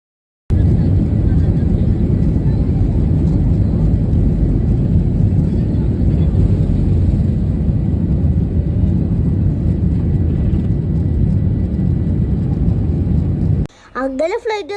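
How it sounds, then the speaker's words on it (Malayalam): An Air India Express airliner moving on the ground, a loud steady engine rumble and roar filling most of the stretch before cutting off near the end. "അങ്ങനെ ഫ്ലൈറ്റ് മൂവ് ചെയ്തിട്ടുണ്ട്."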